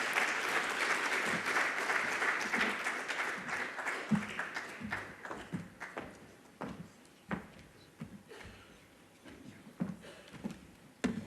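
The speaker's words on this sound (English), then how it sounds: "A round of applause, please." An audience at the Namibia Public-Private Forum applauds, a steady wash of clapping that starts full and loud, then thins into scattered individual claps over about eleven seconds.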